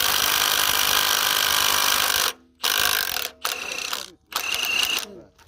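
Milwaukee M18 Gen 2 mid-torque impact wrench hammers loudly on a stubborn bolt at a salvage yard, a continuous close rattling burst followed by several shorter bursts separated by abrupt silences.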